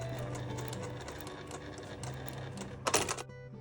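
Sewing machine stitching backpack fabric, tacking one side so a wire cannot pass through; a steady mechanical whir runs close and continuous, ending in a brief louder burst before stopping.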